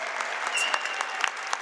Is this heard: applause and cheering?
yes